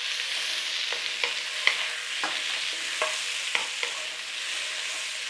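Tinned pineapple is stirred into sweet and sour chicken frying in a pan, with a steady soft sizzle and about a dozen scraping utensil strokes at an uneven pace, close and clear with no talk.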